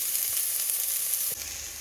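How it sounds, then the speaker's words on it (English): Onions frying with garlic puree in a pan give a steady, close hiss of sizzling that runs throughout, dropping slightly in level near the end as if stirred. "So here's me frying up the onions with a bit of garlic puree"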